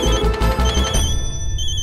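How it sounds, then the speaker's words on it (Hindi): A loud electronic telephone ring trills in quick repeated bursts, then cuts off into a fading tone. "किसका फोन है जल्दी देखो।"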